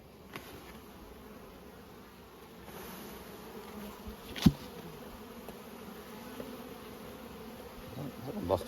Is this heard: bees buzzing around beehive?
yes